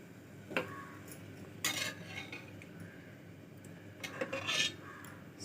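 A spoon stirs mutton gravy in a cooking pot, with a few sharp metallic clinks and scrapes spaced apart against soft background quiet.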